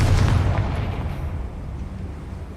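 A Confringo blasting spell explodes in Hogwarts Legacy as a loud, deep boom that starts strong and then rumbles away over a couple of seconds, with no voices over it.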